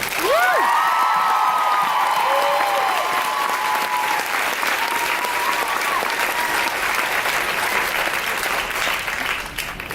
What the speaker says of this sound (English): So just a round of applause for those people.